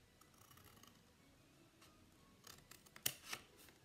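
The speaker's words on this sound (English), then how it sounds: "So I'll take my large scissors and snip along those lines." Large scissors snipping through specialty designer paper for a card: quiet, close, irregular cutting snips, clustered in the second half.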